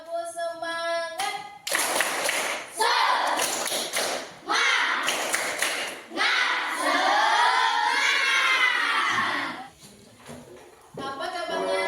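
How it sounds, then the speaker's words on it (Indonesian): Schoolchildren in a fourth-grade Islamic elementary class clap a rhythmic spirit cheer in bursts, loud and close, with chanted shouts and voices over the patterned clapping and short pauses between phrases. "mari kita tepuk semangat terlebih dahulu. Tepuk semangat."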